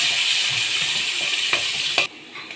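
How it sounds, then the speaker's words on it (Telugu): Onions hit hot oil for a large batch of egg biryani, giving a loud, steady sizzle with a few stirring clicks before it suddenly drops quieter. "ఇప్పుడు మనము ఉల్లిగడ్డ వేసుకుందాం"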